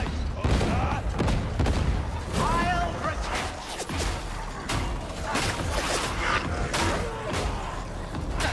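Sustained enemy gunner fire in Darktide, a rapid fusillade of gunshots with mechanical clatter and crashes under excited voices of players talking over it.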